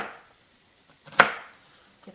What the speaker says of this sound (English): I'll chop the onion first.